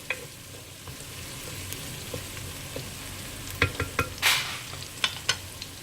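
Onions sautéing in a pan give a steady sizzle, broken by scraping stirs and a louder burst of frying partway through, close and with no talking.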